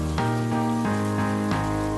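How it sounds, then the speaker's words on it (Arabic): Rain falls as a steady, even hiss on a surface, close and continuous, with sustained musical tones running underneath. "يا قامت تمطر، يلا لازم ندخل جوا"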